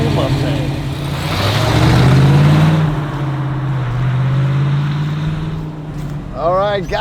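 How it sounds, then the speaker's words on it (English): A 1970 Ford Mustang Boss 302 engine idling and revving close by, a deep steady rumble swelling and settling, with a voice speaking briefly near the end. "I'm just closing my eyes and letting that motor purr."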